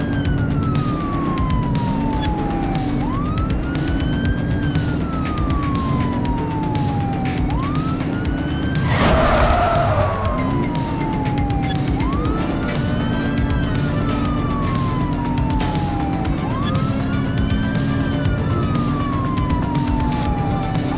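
Police car sirens wailing in repeated rising and falling sweeps during a vehicle pursuit in The Precinct, loud and continuous over engine and traffic noise, with a brief burst of crashing noise midway.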